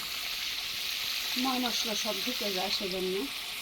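Kalibaus fish sautéing in a hot pan, a steady broadband sizzle of frying with stirring, close and continuous, while a voice talks over it.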